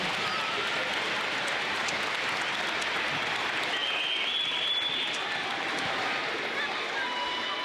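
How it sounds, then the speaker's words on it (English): Sustained applause from parents filling a school awards ceremony hall, dense and steady throughout with a faint murmur of voices underneath. "So parents, let's give all of our kids a big round of applause."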